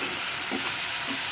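Masala for Bhetki fish curry being stirred and fried in oil in a pan, a steady close sizzle with a few scraping stir strokes, no talking.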